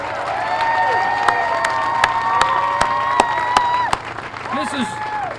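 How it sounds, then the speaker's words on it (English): A crowd at an elementary school topping-out ceremony for a construction project applauds and cheers the workers. Steady clapping and shouts run together with voices and children's calls over it, then thin out toward the end. "Let's all give them a big round of applause."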